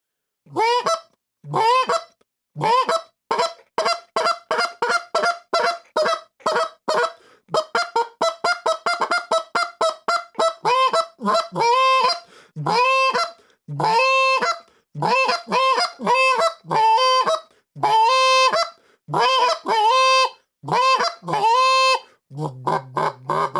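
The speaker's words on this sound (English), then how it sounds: "it's a good deep goosey sound, and I'll blow a flute a little bit for you" A goose call flute with a short reed is blown in rapid rhythmic bursts, giving loud, deep honking goose notes, single and doubled, repeated for over twenty seconds with brief gaps and no talking.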